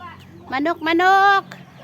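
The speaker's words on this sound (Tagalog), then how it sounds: "Daghang manok." Chickens cluck nearby in a few short, throaty bursts, one drawn out into a longer squawk.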